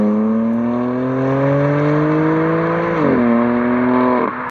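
Stock exhaust of a BMW M4 droning steadily with strong harmonics, rising slowly in pitch under acceleration, a brief shift dip near the end before it cuts off; no talking.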